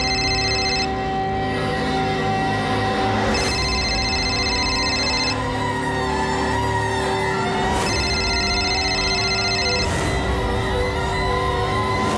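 A telephone rings in repeated electronic bursts, four rings with pauses between them, loud and steady over a constant background tone, with no one picking up.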